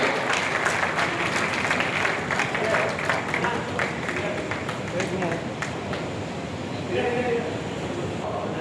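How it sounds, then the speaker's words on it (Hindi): Applause at a swearing-in ceremony: a large crowd claps loudly and continuously throughout, a dense steady roar of hand claps with a voice over a public address system. "जोरदार तालियों से हम इस अभिनंदन में अपनी सहभागिता"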